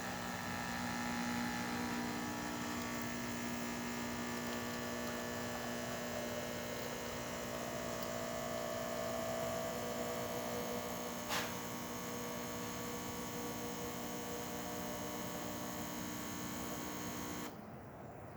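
A serviced DeLonghi espresso machine hums steadily with its pump running during a test shot, a constant close mechanical drone lasting the whole stretch, with one brief click near the end and no speech.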